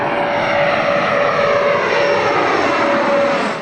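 A propeller airplane flying near Dane County Regional Airport, its loud steady engine drone holding throughout with no break.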